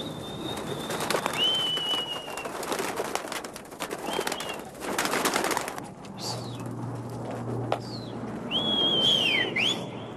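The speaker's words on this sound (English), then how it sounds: "These pigeons here are not your regular street pigeons." Pigeons at a rooftop coop on 135th Street in Manhattan, with cooing and scattered whistle-like calls over a busy outdoor city background, near and moderately loud.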